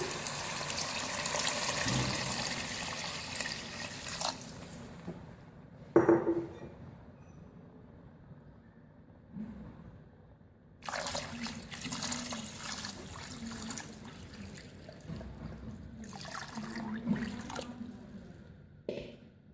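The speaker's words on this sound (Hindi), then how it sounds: "अब इसमें पानी शामिल करेंगे। 3 लीटर हम पानी शामिल करेंगे।" Three liters of water pour into a pot of beef haleem with browned lentils, giving a close, steady splashing and gushing in several bursts, with short pauses between pours.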